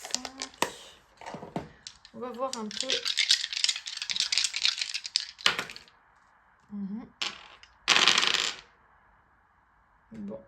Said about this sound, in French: Je vais prendre 5 dés.